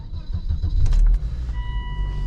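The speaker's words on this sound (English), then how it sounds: "Okay, let's start this car up." A Volvo S60R being started, a short starter crank rising into the engine catching, then a steady low idle with a faint electronic tone.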